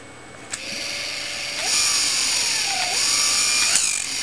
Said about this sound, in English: Does that remind you of the Colin Morgan motor? Sounds exactly the same